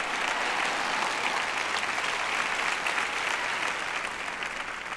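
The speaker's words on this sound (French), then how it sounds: "J'ai une dame qui applaudit par ici." Audience applause in a lecture hall during a talk, steady and dense clapping from many hands that holds evenly for the whole stretch with no voices on top.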